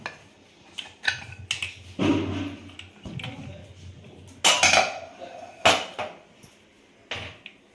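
Chicken biryani, cooked in a pressure cooker, is served onto a plate with a series of close metallic clinks and scrapes of a spoon against the cooker and dishes. The clatter comes in irregular bursts, with quiet gaps between them.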